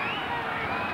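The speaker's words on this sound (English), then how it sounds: "Listen to that crowd." A boxing crowd roars ringside in the closing seconds of a fight, a broad sustained wash of cheering voices filling the whole moment.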